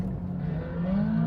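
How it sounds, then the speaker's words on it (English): Ferrari 458 Speciale on a race track, its engine droning steadily and close with rising tonal whine as the car slides and skids, no voices over it. "Now he's skidding about and being a complete arse"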